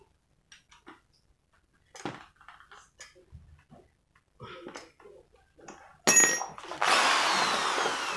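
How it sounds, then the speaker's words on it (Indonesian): A power drill bores holes into bamboo for a woodworking project, starting with a sharp whine and then a sustained loud drilling grind, preceded by quiet handling knocks and taps. "tinggal kita bor lagi buat lubang untuk buat candelan"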